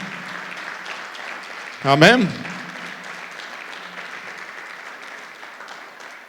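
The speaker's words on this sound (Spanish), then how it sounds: "Dale un aplauso al Señor" A church congregation applauds during a sermon in a steady, moderately loud wash of clapping that runs throughout, with one voice calling out loudly above it midway.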